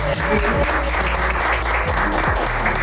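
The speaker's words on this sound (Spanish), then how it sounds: "Aplausos." Studio audience breaks into loud, sustained applause that fills the room evenly from start to finish, with a faint murmur of voices underneath.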